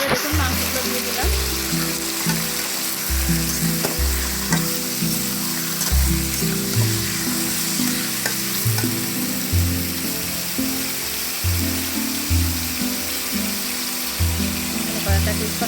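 Chicken pieces sizzle loudly in hot oil in a pan for a Bengali-style chicken and potato curry, with a continuous crackle, rhythmic stirring scrapes and a voice talking over it.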